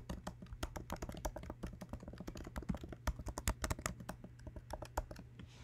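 Fingers tapping out a username and password on a computer keyboard, a quick irregular patter of soft close clicks with no voices.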